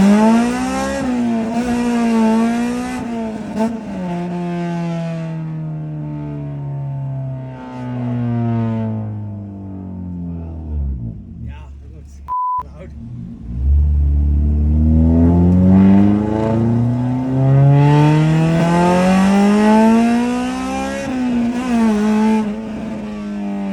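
A car with a K-series engine and recently fixed steering, its tyres topped up with nitrogen, is driven on the road, the engine climbing and dropping through the gears in repeated revving sweeps, close and steady, with no talking.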